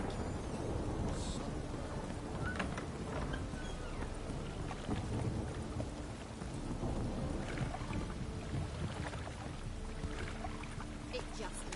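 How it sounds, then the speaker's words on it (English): Steady rain and rumbling thunder in the video game Witcher 3, a dense, continuous wash of wet noise with low booms, heard under occasional talk. "It just rains and rains."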